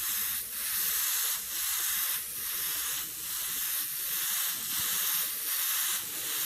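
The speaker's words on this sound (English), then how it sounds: "You should be able to see the angle of the airbrush. And I'm just going to start to apply that stroke." An airbrush sprays paint onto a skull: a steady, close airy hiss that pulses in short strokes about once per second, alone with no talking.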